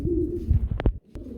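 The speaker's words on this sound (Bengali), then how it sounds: "আমরা মাশাআল্লাহ আরেকটা জোড়া কবুতর আপনাদেরকে দেখাইতেছি" Pigeons kept in pairs for sale coo softly at close range, a couple of short throaty coos ending in a quick flutter-like burst, with no voices present.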